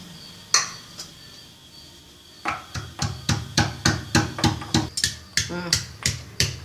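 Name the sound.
pounding ginger and garlic with a mortar and pestle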